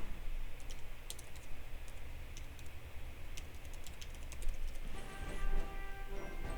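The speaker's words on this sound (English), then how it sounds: "Pardon me for typing as slowly as I am" Steady rapid clicking of keys on a computer keyboard, typing close up and fairly quiet, continuing for several seconds during a Hearts of Iron III strategy game session.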